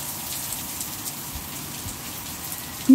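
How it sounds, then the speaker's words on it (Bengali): Heavy torrential rain pours steadily in Goa, a dense, even roar of drops on surfaces close by and unbroken for the whole stretch, with a brief louder knock at the very end. "অজস্র বৃষ্টি পড়তেছে।"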